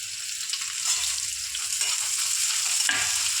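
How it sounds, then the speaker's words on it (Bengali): Onions frying in a pan, a continuous bright sizzle with soft stirring scrapes, close and steady, no talking. "দেখো পেঁয়াজগুলো ভাজছে মা"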